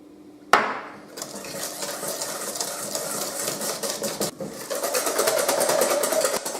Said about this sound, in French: fouettez toujours énergiquement votre mélange